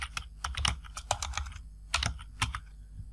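Computer keyboard keys clack in quick irregular bursts with a short pause midway while a LAMBDA function is entered in Excel, close and fairly quiet, no voice.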